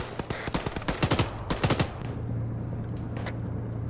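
Rapid machine-gun bursts in the ArmA military shooter, close and loud in quick clusters for about two seconds, then fading to distant scattered shots over a steady droning hum.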